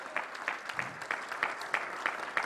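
A church congregation claps in a rhythmic, regular beat, fairly faint and distant, with evenly spaced accented claps.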